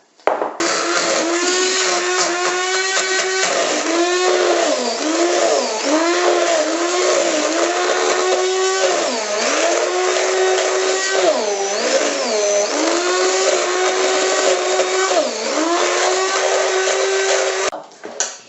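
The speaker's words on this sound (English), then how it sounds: "It should only take like 2 minutes if you're using a hand blender" A hand blender whirs loudly and continuously for a long stretch, its motor pitch dipping and rising as it works through a thick almond base, then cuts off.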